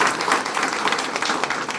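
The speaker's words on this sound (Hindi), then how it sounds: "एक तालियां तो बजती है।" Audience applause at a live gathering, a short, steady wash of many hands clapping close and fairly loud, with no voices over it.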